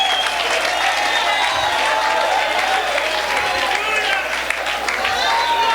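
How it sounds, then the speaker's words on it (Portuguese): Continuous, steady applause from a church congregation at a winter youth camp session fills the space evenly for several seconds, with a low hum running underneath. "Vamos dar uma salva de palmas para Jesus."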